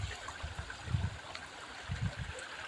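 Rainwater runs along the ground after heavy rain and flooding, a faint, continuous trickling and gurgling flow with a few soft low thumps.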